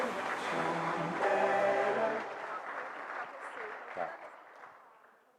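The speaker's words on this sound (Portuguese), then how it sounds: "Vamos recebê-lo com uma salva de palmas" Audience clapping to welcome a university professor to the stage at a dairy event, with a voice talking over it early before the applause fades out.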